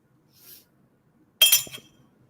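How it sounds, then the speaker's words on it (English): Champagne is poured into a wine glass in a short, bright fizzing rush that lasts about half a second, after a faint earlier hiss, with no talking. "Pour in the champagne."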